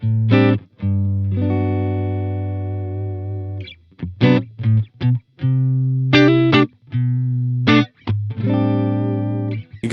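Distorted electric guitar through a PRS Archon amp model on a Line 6 Helix, loud and warm, playing sustained low chords and riffs with short choppy breaks and some chorus-like shimmer, no talk.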